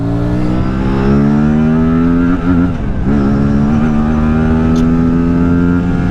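An Aprilia RS 457 motorcycle engine revs loud and close in a city, holding a steady harmonic drone with a brief dip and swell in pitch midway, alone with no talk.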